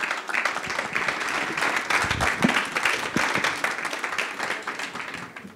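Audience applauding panelists at the close of a panel at an urban cycling congress, a sustained round of clapping of moderate loudness with a few sharper claps standing out.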